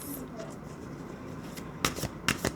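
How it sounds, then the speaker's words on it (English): Tarot cards being shuffled in a few quick riffling bursts near the end, close and fairly soft over a quiet room background. "I was trying to do a nice shuffle."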